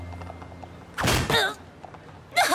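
A locked shop door in a cartoon is shaken and tried: a loud creaking, knocking rattle lasts about half a second, then a second shorter rattle follows after a pause.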